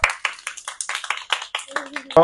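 Children clap together for a girl who won first prize in a number-guessing game at a casual gathering, a quick ragged burst of hand claps lasting a couple of seconds, with a voice briefly calling out near the end.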